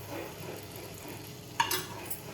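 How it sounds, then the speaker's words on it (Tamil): A spoonful of oil heats in a small tempering pan for sambar, giving a soft steady sizzle with a brief sharper crackle and a faint clink of utensils near the end; no talking. "ஒரு ஸ்பூன் எண்ணெய் விட்டுட்டு"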